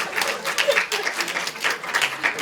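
Audience clapping at a homeopathic conference after a man is called forward, a short burst of moderate applause from a seated crowd.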